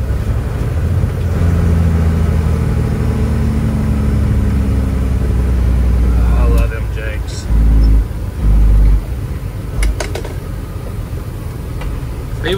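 Detroit Series 60 diesel in a Freightliner FLD truck idling with a low steady rumble, a few heavier surges late on, while someone talks over it nearby.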